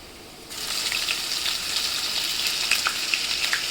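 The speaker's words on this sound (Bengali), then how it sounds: "এখন আমি আদা রসুন দিব।" Ginger and garlic hit hot oil with browned onions, setting off a loud, steady sizzle with scattered pops and crackles that starts abruptly and holds throughout.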